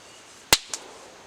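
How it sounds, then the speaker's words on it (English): Two sharp, distant gunshots crack outdoors near a campsite during a thunderstorm trip, the first louder and the second fainter a split second later, over a quiet background. "Listen to the gunshots."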